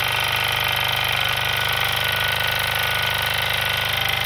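A Wilesco D3 model steam engine runs steadily, a close, continuous rapid mechanical chuffing and rattling hum that stays even throughout, with no voices.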